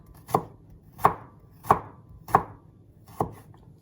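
A sharp knife cutting ginger into thin slices on a board, five crisp separate chops at an even, unhurried pace, close and clear with quiet between them.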